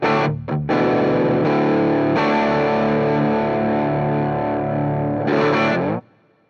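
Electric guitar played through a Warm Audio WARMDRIVE overdrive pedal, a Zendrive-style Dumble-voiced drive, giving a sustained, loud breakup-toned passage of ringing chords that swells near the end and then cuts off.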